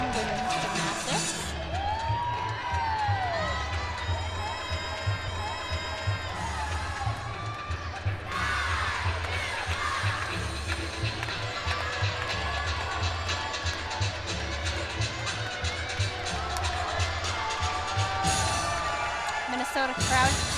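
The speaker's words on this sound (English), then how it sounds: "Minnesota crowd cheering her on as she gets ready to do her final pass here." A Minnesota crowd at a women's gymnastics meet against Illinois keeps up steady cheering and whoops in a large arena, moderately loud and continuous under the ongoing din.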